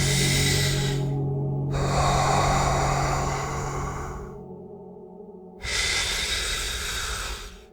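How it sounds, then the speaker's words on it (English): Deep belly breathing from the diaphragm: a long, loud airy inhale, then a slow extended exhale and another strong breath in, close up with no talking, over a steady low hum. "This is called belly breathing,"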